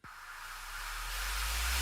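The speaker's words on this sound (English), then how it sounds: "I have my risers and downers, which go up." A hissing, noise-based riser swells steadily louder over under two seconds, a rock/metal mix effect building in intensity with a low rumble growing beneath it.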